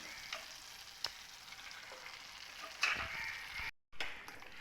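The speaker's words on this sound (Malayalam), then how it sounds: "ഇതിനകത്തേക്ക് നമ്മുടെ മസാല പുരട്ടി വെച്ചിരിക്കുന്ന മട്ടൻ ഇട്ട് കൊടുക്കുക." Masala-coated mutton frying in a pan for Kerala-style mutton curry produces a soft, steady sizzle with occasional faint clinks and a brief louder stir, then a short gap.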